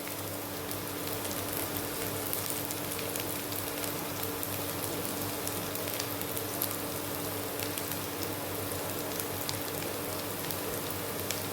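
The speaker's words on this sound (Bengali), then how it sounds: "এবার এটাকে একটুখানি আমি ভেজে নিচ্ছি" Onion fries in a pan, giving a steady, dense sizzle with crackling spatter throughout and a low hum beneath it.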